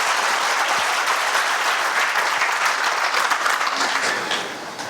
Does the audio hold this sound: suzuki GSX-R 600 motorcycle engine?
no